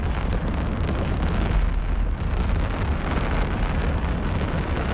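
Dense, steady rumbling roar of fireworks during an Eve Online memorial flight, continuous broadband bursts blending into one loud wash with no clear gaps and no talk.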